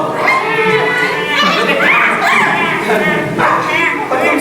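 Several dogs bark, yip and whimper close by, overlapping in busy bursts, while people talk excitedly over them throughout.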